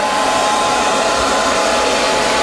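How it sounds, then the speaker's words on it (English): A hair dryer runs continuously at close range, a loud steady broadband whoosh of motor and airflow that holds unchanged throughout, with no voices. "Now I am putting these to hair dryer"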